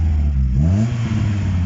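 A Vauxhall Corsa with an aftermarket exhaust revs up close by, its deep engine note rising and falling in pitch with a raspy rumble throughout.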